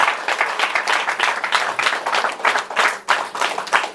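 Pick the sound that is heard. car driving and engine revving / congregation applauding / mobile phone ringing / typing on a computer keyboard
congregation applauding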